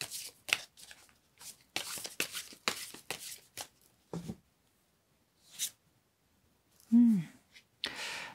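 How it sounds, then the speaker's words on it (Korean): Tarot cards are shuffled and drawn for a love reading, heard as close, crisp bursts of riffling and sliding with short pauses, plus a brief voiced sound near the end. "특징의 카드 한 장 먼저 뽑아보도록 하겠습니다"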